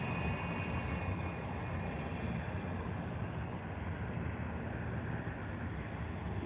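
A FedEx cargo plane taxis at Anchorage's Ted Stevens airport, heard as a steady, broad engine rumble and hiss from a distance that holds at an even level throughout, with some wind noise.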